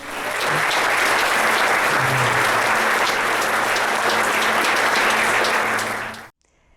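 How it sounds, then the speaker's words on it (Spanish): A church congregation gives loud, vigorous applause, dense steady clapping from many people that holds at full strength for several seconds before stopping abruptly. "Demos un fuerte aplauso más al Señor."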